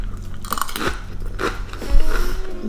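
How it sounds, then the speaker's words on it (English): Crisp bites and crunching of chips, a few sharp crunches followed by chewing, close to the mic. "Let me try it with some chips."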